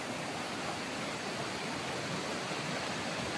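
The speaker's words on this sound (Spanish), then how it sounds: "Esta es la quebrada del Alto de San Miguel, el río Medellín" A mountain creek, the Alto de San Miguel stream at the head of the Medellín River, rushes steadily with a dense, even broadband wash of flowing water, close and continuous with no voices.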